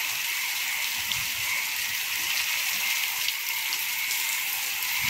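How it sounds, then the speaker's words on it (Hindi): Rain falling steadily at night in Rajasthan, a constant bright hiss of drops with no voices and no pauses. "यहाँ पे बारिश आना शुरू हो गई थी।"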